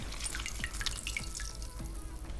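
Soaked gelatin sheets are squeezed by hand, releasing water that drips and trickles in small irregular splashes, quiet and close, with no voices.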